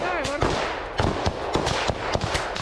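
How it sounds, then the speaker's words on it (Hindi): Close-range gunfire in combat footage between Russian and Ukrainian forces, a string of sharp, loud bursts and single shots in an irregular rhythm, with a brief voice-like sweep at the start. "देखिए आमने सामने की गन फाइट।"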